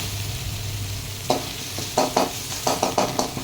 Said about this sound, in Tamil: தக்காளியை போட்டு அதுவும் சிம்மில் வச்சு நல்லா வதக்குங்க